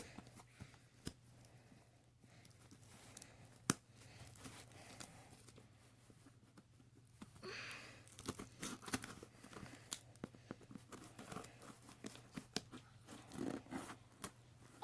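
Paper tears and crinkles as a Gemini Jets 1:400 Delta A330-900neo model airliner package is opened, with scattered close, sharp rips and rustles that grow busier and louder toward the end.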